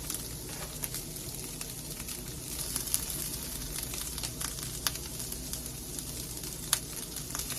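Tempeh fries in a pan with a soft, steady sizzle and occasional crackles and pops, quiet and continuous, with no voices.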